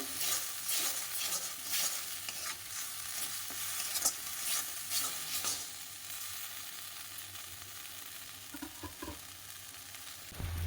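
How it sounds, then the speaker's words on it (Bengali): Spice paste with chilli and turmeric powder sautéed in a pan for a mushroom dish, a steady dense sizzle with scraping stirs throughout, close and continuous with no voices. "মশলাটা একটু কষিয়ে নেব"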